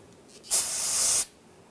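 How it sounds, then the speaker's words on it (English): A single close burst of cleaner sprayed onto a rag during rear axle work on a 2011-2018 Ram 1500, a steady hiss lasting under a second and then cut off. "You can spray some on the rag and then just wipe down the surface area on the differential."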